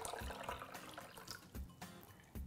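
Starchy rice soaking water pours out of a pan for Turkish sutlac rice pudding, a steady close splashing stream with a few louder gushes, no talk.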